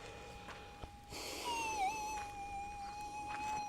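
Two metal detectors, an Algoforce and an SDC2300, running a noise cancel over buried gold ground, emit steady electronic tones that waver and dip in pitch, sustained for several seconds against faint background hiss.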